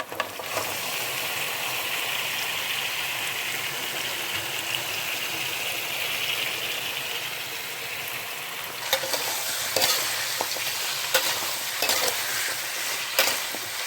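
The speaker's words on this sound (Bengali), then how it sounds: "পেঁয়াজটা ভাজা হয়ে গেছে, এবার মাংসগুলো ঢেলে নিচ্ছি এর মধ্যে" Chicken legs tipped into hot oil with fried onions and garam masala: a steady loud sizzle for several seconds, then bursts of scraping and stirring as the pieces are mixed, no voices.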